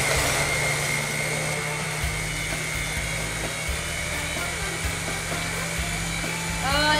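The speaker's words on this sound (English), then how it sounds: "And just turn on the blender." A blender blending a mango lassi whirs steadily and evenly for several seconds, a dense mechanical drone with a low pulsing undertone.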